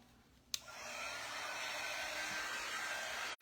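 A hair dryer clicks on and blows in a steady, loud rush while drying paste on a sunflower wreath, then briefly cuts out near the end.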